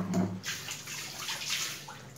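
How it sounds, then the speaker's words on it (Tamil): Water splashes and trickles into a pan of methi garlic curry, followed by soft sloshing as it is mixed in; moderately close with no talking. "இதுக்கு இன்னும் கொஞ்சம் தண்ணி விட்டு கலந்துக்கிறேன்"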